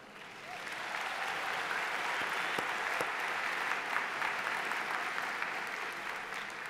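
A law school commencement audience applauds steadily, a broad even wash of clapping from a large crowd that holds at one level throughout.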